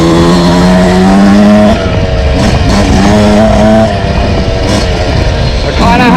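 A 2026 Yamaha YZ125X two-stroke dirt bike buzzes loud and close on rocky trails, its engine note rising and falling steadily with throttle changes and gear shifts throughout.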